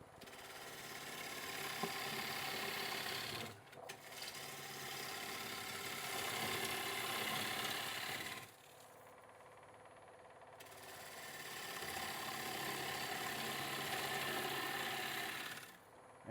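A wood lathe rough turns a bowl blank, the gouge making a loud, rough, continuous scraping and chattering in long passes separated by short pauses.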